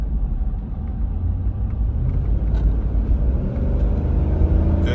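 A restored 2003 Chevrolet Tahoe Z71 engine rumbles steadily while downshifting, a close, continuous low drone from inside the cab with no talking.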